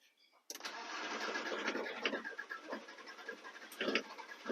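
VW camper van engine cranking and catching, starting abruptly and then running unevenly nearby, with a voice heard under the engine noise.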